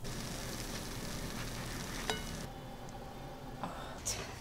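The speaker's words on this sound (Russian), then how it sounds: "Вот, жарю на нем блинчики." Blini frying in oil in a pan give a steady, soft sizzle throughout, with a couple of brief clinks partway through.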